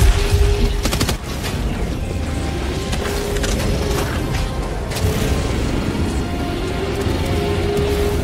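Machine gun fire in a video game, opening with a sharp burst of rapid shots and then a sustained loud rattling roar mixed with mechanical clatter and booms throughout.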